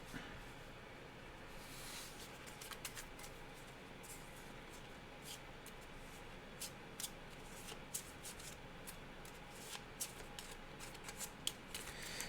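A deck of playing cards is shuffled during a solo tabletop card game, a steady run of soft riffling and flicking clicks over a faint background hiss, close and fairly quiet with no talking.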